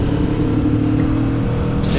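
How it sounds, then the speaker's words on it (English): A Kawasaki Vulcan S motorcycle engine held at high revs, a loud steady drone with wind rush, heard from the rider's position with no talking. "Putting it up in the high revs,"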